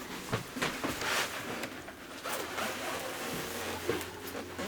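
Clothing zipper zipped in quick repeated rasping pulls, close and fairly quiet, with no talking.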